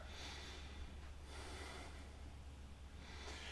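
A deep, slow breath drawn in and let out during a wide-stance stretching exercise, an airy rush of inhale and exhale heard close up over a low steady hum.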